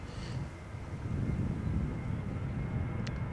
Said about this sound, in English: This is KLM flight 1219 going to Stockholm. It's a Boeing 737-900.